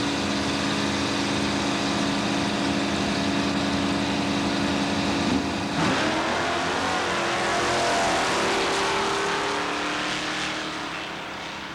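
Drag race cars, a Chevrolet Camaro and a Pontiac Trans Am at Southeastern Dragway, roar loudly and continuously, with a sharp surge and rising engine pitch midway as they launch, then a slight fade at the end.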